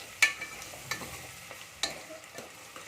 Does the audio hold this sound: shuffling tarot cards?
no